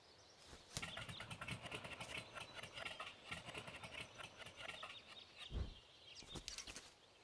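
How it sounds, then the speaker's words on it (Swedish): A small motor engine starting and running in the Astrid Lindgren Madicken children's game, with a quiet, steady putter and light sputtering, plus a brief thump partway through and faint chirpy background sounds. "Klicka med musen för att dra igång motorn."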